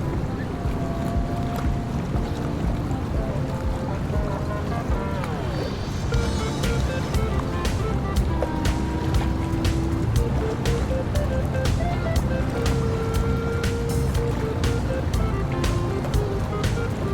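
A tour boat cruises on the River Thames in London on a chilly, sunny day, its steady engine rumble and water wash forming a continuous noisy bed with faint scattered tones over it, without talk.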